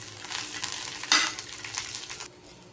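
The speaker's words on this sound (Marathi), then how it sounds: "मिरची बरोबर भाजून घ्यायचा।" Green chillies and garlic roast in a hot pan for a Maharashtrian chilli thecha, giving a steady close sizzle and frying crackle with a brief louder stir partway through.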